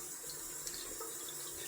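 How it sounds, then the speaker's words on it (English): A water tap runs steadily for a cold-water rinse after wet shaving, a constant faint splashing stream into a sink with no voices. "Gonna go down for a cold water rinse."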